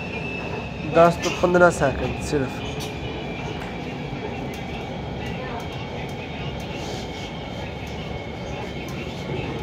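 Lahore's Orange Line metro train rumbles steadily at a station, with a brief burst of tonal beeping early on and a continuous mechanical hum. Someone talks over it.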